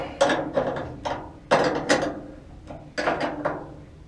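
A ratchet clicks in quick bursts of several sharp pawl clicks each, repeated in a steady rhythm as bolts are tightened on a machine resting on wooden blocks, close and clear with no talking.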